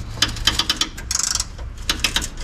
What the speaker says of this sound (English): So I've got a ratchet spanner on the back, and then when I hold that one and turn that one, you see it's moving